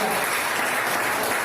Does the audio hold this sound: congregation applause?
yes